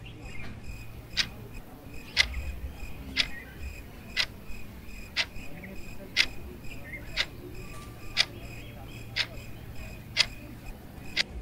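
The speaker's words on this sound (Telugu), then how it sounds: "గడియారం మెల్లగా మోగుతోంది." A clock ticks slowly and steadily, sharp regular clicks roughly once a second, close and clear over a quiet, faintly humming room, with no talk.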